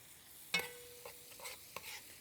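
Orzo stirred with a couple of tablespoons of butter in a pot, quiet and close, with a few soft spoon scrapes and taps over a low, faint sizzle.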